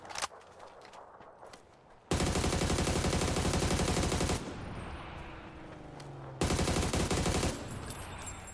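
Automatic gunfire in a first-person shooter, loud sustained bursts of rapid shots broken by short gaps and quieter stretches, with no talking.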